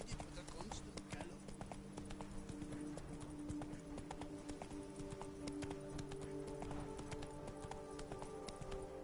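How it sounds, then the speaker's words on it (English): Horse hooves clip-clopping at a steady gallop in the Witcher 3 video game, a continuous rhythmic beat under game music and a talking voice. "Even a horse drops if you ride it with a constant gallop."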